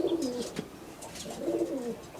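Madrazi Kalanka pigeons coo in two rolling, throaty bursts, each low warble swelling and fading, heard close by with no one speaking.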